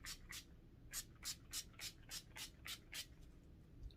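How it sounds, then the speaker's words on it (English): A handheld spray bottle mists water onto hair being set for heatless curls, about ten short, crisp hissing bursts in an even rhythm, close and fairly quiet with no talking. "So I'm just going to spray it with water."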